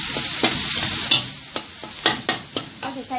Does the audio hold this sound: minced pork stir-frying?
yes